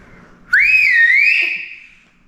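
A survival whistle from a bugout bag gives one loud, close blast lasting over a second, its shrill pitch wavering slightly before it fades, with no talk over it.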